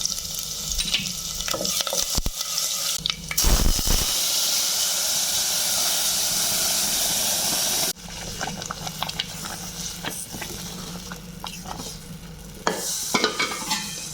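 Bay leaf, garlic and cumin sizzle in hot oil in a pan, a loud close hiss and spatter with stirring scrapes, one sharp burst of frying partway through and steady crackling after.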